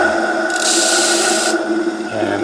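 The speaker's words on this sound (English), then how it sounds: "let's bring this over to the sander" A sander works the underside of a part from a 1964 Stratocaster guitar, giving a steady abrasive rasp with a brief louder burst of grinding midway as the piece is pressed harder, close and continuous with no talk.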